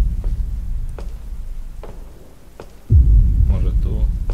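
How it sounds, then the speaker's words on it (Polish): Thunderstorm in the horror game Slender, level set at a mansion: steady rain hiss with a low rolling rumble, several sharp crackles, then a heavier thunderclap near the end, all without talk. "Nie lubię burzy w ogóle."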